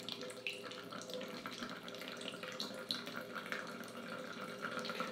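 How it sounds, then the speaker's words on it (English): Clean tap water pours steadily through a small water filter into a container, a close, continuous splashing stream with no talk. "I'm running clean tap water through this"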